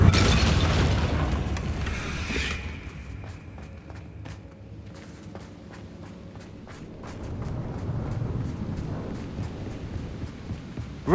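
A Confringo fire spell explodes in the video game Hogwarts Legacy, a loud, booming blast at the start that settles into a rumbling low tail with scattered small impacts, then swells again toward the end.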